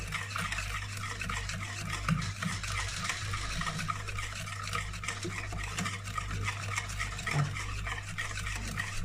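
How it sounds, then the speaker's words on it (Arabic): Cake batter ingredients being stirred together in a bowl, a steady soft scraping and swishing that runs continuously at close range over a low background hum, with no talking. "نقعد نقلب فيهم، نقلب لغاية ما نخليهم مندمجين مع بعض كده حلو."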